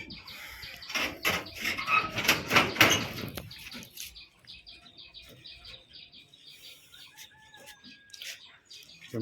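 Giribaz and Madras pigeons in a loft, a burst of wing flapping and fluttering with soft chirps and cooing, followed by quieter faint rustling and a thin squeak near the end, no talk.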